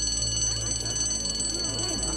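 An alarm rings steadily in an indoor scene from an animated show, a loud, continuous high-pitched tone lasting the whole moment, with voices and a low background hum underneath.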